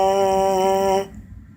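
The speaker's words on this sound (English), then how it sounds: "learning how to buzz on the mouthpiece" A steady, loud buzz on a trombone mouthpiece alone, a single sustained pitch held for about a second before it stops abruptly.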